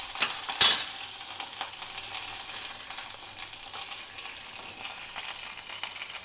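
Mustard seeds, a dry red chilli and curry leaves sizzle in hot oil in a pan, a steady bright hiss with a sharp crackle as they go in, continuing evenly with small pops.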